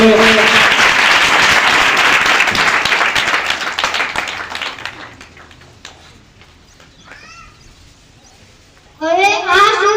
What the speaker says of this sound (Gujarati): તાળીઓ વગાડીએ।